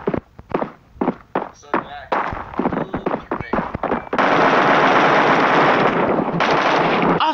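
Automatic rifle fire in the online shooter Bullet Force, with AKs and grenades: short clipped shots give way to a loud, continuous burst of rapid fire, near and dense, and people talk alongside it.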